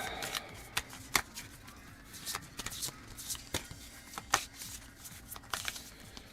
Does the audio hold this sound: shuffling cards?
yes